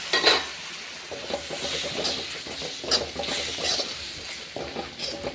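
Ingredients for a clam meat roast sizzle and crackle in a hot pan while a utensil scrapes and stirs at irregular intervals, close and fairly loud, with no talking.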